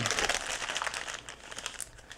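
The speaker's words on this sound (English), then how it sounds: "We're going to put that pasta right there in our little plastic bag, seal it up," A plastic bag is crinkled and sealed around freshly made pasta dough in a kitchen, giving a close, quiet run of crisp crackling rustles for about two seconds.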